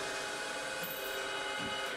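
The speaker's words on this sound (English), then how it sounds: "I'm here drilling and tapping the M6 threads for the casters" Drilling and tapping M6 threads for caster mounts in a home workshop: a steady, continuous machine whine with a dense tonal hum, close and fairly loud throughout, with no talking.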